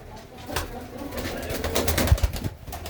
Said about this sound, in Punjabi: ਇਹ ਹੈ ਕਬੂਤਰ